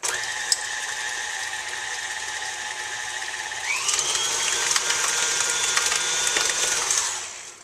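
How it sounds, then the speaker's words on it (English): A stand mixer beats pumpkin cheesecake filling with a steady motor whine and rattling mechanism. The pitch steps up partway through, holds, then winds down at the end, with no talk. "That's going right in the mixer."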